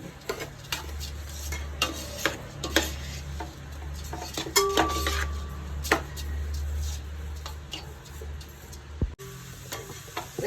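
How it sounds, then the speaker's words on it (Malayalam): A spatula scrapes and stirs rice being fried in a pan for ghee rice, in repeated clinks and scratches, over a steady low hum and faint sizzling. "നന്നായിട്ടൊന്ന് വറുത്തെടുക്കണം അരി"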